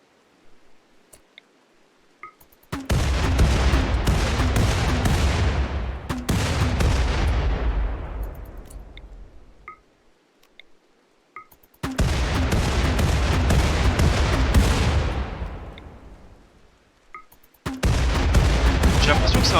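Naval cannon blasts from RimWorld roar out as loud, sustained booming barrages. Several long volleys each decay slowly, with short quiet gaps and faint clicks between them.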